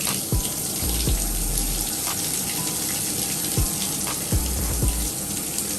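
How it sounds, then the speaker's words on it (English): Water runs steadily from a bathtub tap into the tub, a continuous broadband splashing rush that stays even and fairly loud throughout, with a few low thumps and knocks along the way. "We gonna let that water warm up."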